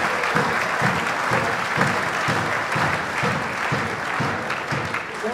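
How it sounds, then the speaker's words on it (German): Big round of applause from a crowd at a wrestling match, dense steady clapping throughout, close and loud. "Herzlichen Glückwunsch und einen großen Applaus"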